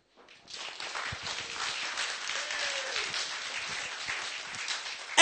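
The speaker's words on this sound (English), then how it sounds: "another big round of applause for Mark Edon." An audience in a pub talk bursts into sustained applause, many hands clapping steadily for about five seconds at moderate volume.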